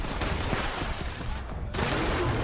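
Explosive pump-action shotgun blasts fired in Fallout 76, loud and dense, with booming shots and bursts of noise packed close together across the stretch and no voices over them.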